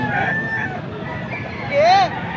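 A stag rooster at a cockfighting market in Pampanga crows once, loud and close, over a busy background of murmuring voices and other birds.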